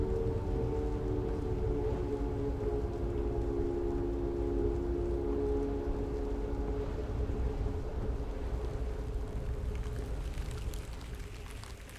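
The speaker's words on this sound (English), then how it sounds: "rain coming down" Rain falls in a steady, even hiss across the whole stretch, with a low tonal hum underneath that fades out near the end.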